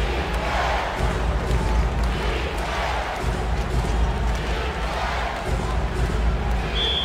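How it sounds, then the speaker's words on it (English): A home crowd roars continuously in the EA Sports NBA Live 2006 basketball video game during a Memphis Grizzlies at Dallas Mavericks matchup, a loud, steady wash of arena noise with faint thuds mixed in. "This home crowd absolutely loves it."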